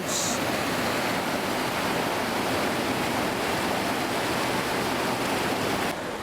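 Water rushing through Breed Sluice near Rye Harbour, a loud, continuous broadband roar like a small weir or waterfall, steady throughout with no voices.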